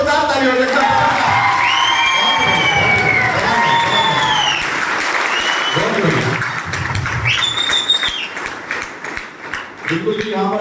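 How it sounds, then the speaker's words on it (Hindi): Loud audience clapping and cheering fills the hall, with whoops and a few shouted voices rising over steady applause that thins slightly near the end. "तो शिंदे साहब के लिए जोरदार ताली हो जाए।"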